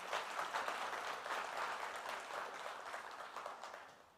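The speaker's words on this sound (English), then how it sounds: "with the round of applause for our past chairmen" An audience breaks into steady applause, a dense wash of clapping that holds evenly for several seconds at a moderate distance before gently tapering, with no voices over it.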